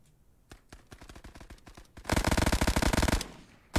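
An MG machine gun fires in the video game Resolve, first a string of single shots, then a loud, rapid sustained burst, and a final shot at the end.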